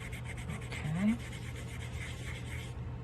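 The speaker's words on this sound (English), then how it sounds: "sanding down to the better part of the cane, getting rid of all the schmutz on the top" Sandpaper rubs in short, soft repeated strokes over the end of a polymer clay cane, close and quiet, with a faint murmur of talk.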